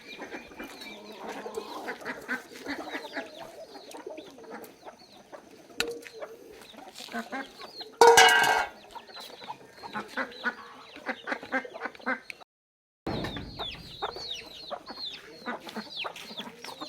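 Chickens cluck and chatter steadily on a small farm kept with ducks and pigeons. The calls are mid-distance and overlap, with a brief louder squawking burst partway through.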